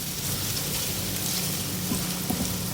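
Chopped medium onion fries in a pan, a steady soft sizzle and crackle with a low hum beneath and a few brief pops near the end, close by and without speech.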